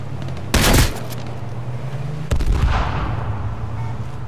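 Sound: gunshots in H1Z1 video game

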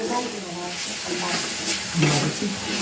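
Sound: ginger garlic paste and green chili sautéing

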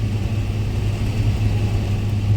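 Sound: tractor engine straining while ploughing a field

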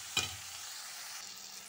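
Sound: masala sautéing in a pan

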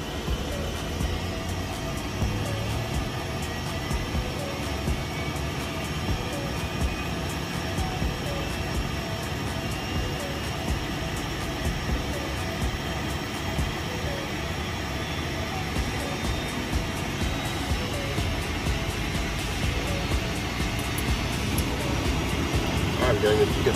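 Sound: Phenom jet's left engine starting

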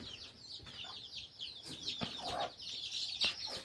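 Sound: chickens clucking on a poultry farm

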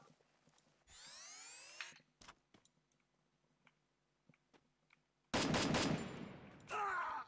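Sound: gunfire in SIGMAX shooter, video game

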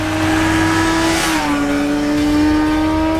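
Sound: Suzuki GSR 600 motorcycle accelerating

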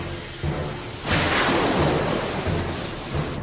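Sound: storm, thunder in animated series

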